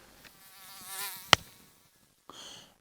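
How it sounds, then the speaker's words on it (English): Mosquitoes whine close by among Norfolk sand dunes, a thin, wavering buzz that swells and fades with one sharp click in the middle and a short second burst near the end. "And there are mosquitoes around."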